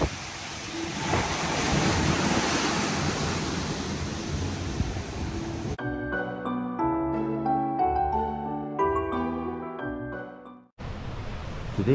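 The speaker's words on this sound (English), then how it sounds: "Here you can see all the splashing of sea. Wow, it's high tide." Sea waves surge and splash at high tide beside a resort in Bali, a loud, dense roar that fills the first half before music takes over.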